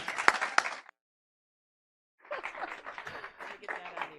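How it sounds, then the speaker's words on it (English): Applause and clapping from a congregation at a Sunday service in a spiritual living center, a short burst of clapping, a gap of silence, then a renewed spell of crowd applause mixed with voices. "I would like you to give a round of applause for Stephanie Swink"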